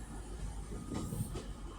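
Class 185 train 185102 rumbles slowly through Manchester Piccadilly station, a low steady rolling drone with a faint wheel clack, moderately near.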